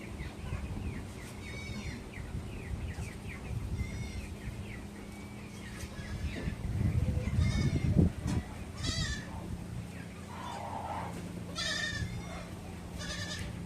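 Goats bleat intermittently on a farm, moderately close, with quieter bird chirps and general barnyard rustling in between calls.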